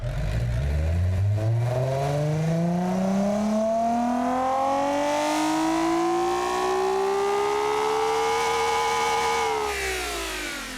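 An AI-designed offroad truck's engine in a video game revs in one long pull, its rising whine climbing steadily in pitch for about ten seconds before easing off at the end, loud and alone.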